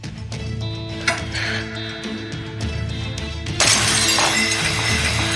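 A precious breakable object shatters during a heated argument in a domestic drama scene: a loud crash with a bright burst of breaking fragments near the end, over steady background music, with an earlier sharp knock.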